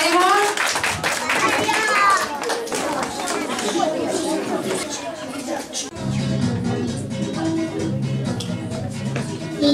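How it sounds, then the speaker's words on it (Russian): An audience claps to welcome a child contestant at a singing competition, with applause and crowd chatter throughout and music-like tonal sounds joining in the second half. "будь ласка, аплодисменти"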